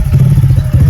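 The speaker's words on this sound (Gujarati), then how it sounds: "મારો છોકરો બાઈક લાયો" A motorcycle brought home by a son idles close by, a loud low chugging engine throb with a rough, clattery pulse, very brief.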